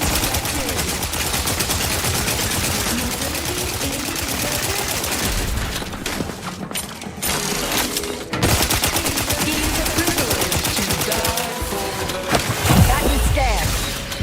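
Loud, sustained automatic gunfire rattles almost without break during a firefight in The Outer Worlds 2, pausing briefly about midway before the bursts resume. Faint voices sit beneath the shooting.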